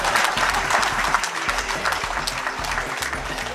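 An audience breaks into applause at a talk in Goa, a burst of many hands clapping, loud and close, continuing steadily for a few seconds with faint crowd murmur beneath.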